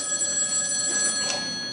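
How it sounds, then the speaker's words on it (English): A telephone bell rings with a bright, sustained metallic trill from a stage musical, loud and continuous through the short moment. "You managed to be happy for 5 seconds and the phone starts ringing."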